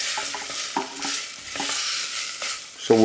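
Chicken and jasmine rice cooking in a preheated crock pot bubble and sizzle softly, with a steady hiss broken by a few brief clinks and small pops.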